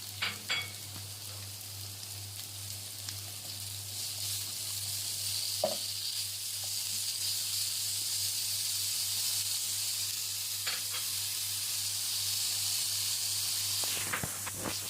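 Chopped onion and garlic sauté in the same pan used to fry Alexandrian-style liver. A strong, steady sizzle runs throughout, with occasional scraping and stirring knocks.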